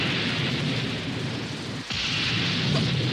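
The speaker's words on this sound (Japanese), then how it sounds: "そうか、これが雨なんだ。" Steady rain pours down in an anime scene, a dense, continuous hiss that fills the short clip at constant loudness, with a brief low thump partway through.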